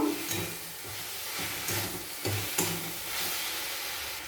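Chicken roll filling with garam masala and Hellmann's mayonnaise being stirred in a hot pan, a faint, even sizzle broken by a few scraping and tapping stir sounds.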